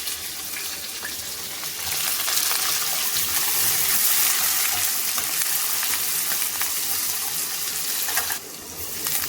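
Tadka tempering sizzles and crackles steadily in a hot pan. The hiss grows louder partway through, with faint stirring sounds.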